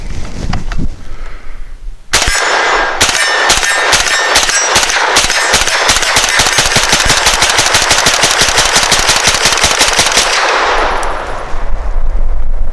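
A Definitive Arms AKX-9 fires a full magazine plus one in one long rapid string of loud, close, evenly spaced shots lasting about eight seconds, with ringing metallic clanks, then stops; quiet handling noise before and after.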